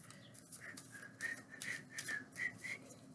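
Someone whistles a short tune in bright, separate notes with brief pauses between them, close and fairly quiet, with no voices.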